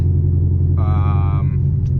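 C6 Corvette V8 with an aftermarket BTR Stage 4 cam and exhaust idling up close, a steady loud low rumble with a brief higher-pitched tone swelling in midway.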